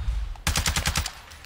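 Rapid automatic gunfire from a gun in a shooter video game. A burst of about eight close, loud, evenly spaced shots follows a brief pause.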